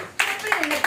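A church congregation breaks into brief bursts of applause, loud and close, mixed with a preacher's voice.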